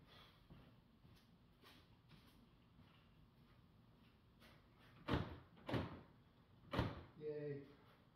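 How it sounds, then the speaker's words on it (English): Toyota 4Runner power door locks actuating, a few sharp mechanical clunks in quick succession near the end, with a quieter click earlier and faint background noise. "hit the lock button over there again."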